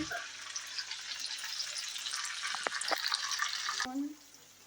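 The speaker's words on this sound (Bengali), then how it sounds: "সাদা তেলে ভাজছে, তো সাদা তেলে ভেজে নিচ্ছে" Beans, carrots and capsicum fry in white oil for fried rice, giving a steady broadband sizzle for about four seconds with a few clinks before it cuts off abruptly near the end.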